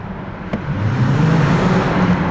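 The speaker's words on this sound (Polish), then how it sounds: "No i teraz klasyczny dźwięk w tunelu, pomiar, pomiar hałasu w tunelu, brzmienia, test brzmienia." A Dodge Challenger's engine rumbles inside a road tunnel, a steady, fairly loud low drone that swells slightly after the first half second and holds without any voices.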